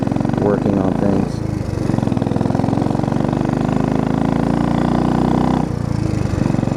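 A Royal Enfield motorcycle with points ignition rides along a road, its engine producing a steady, continuous drone throughout, loud and near, with a voice talking over it.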